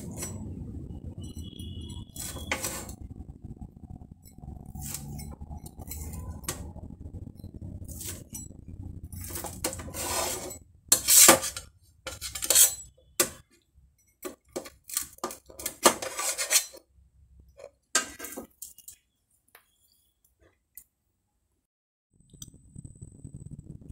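Idli batter flatbread is cut into pieces in a pan with a series of close metallic clinks and taps in irregular bursts, then long quiet gaps.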